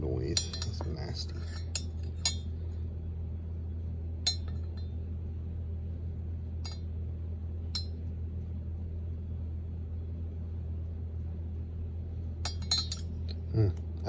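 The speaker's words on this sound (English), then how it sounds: "let me get that out with a spoon" A metal spoon clinks against a coffee cup in a few scattered, bright taps, some in quick clusters, over a steady low hum near a French press.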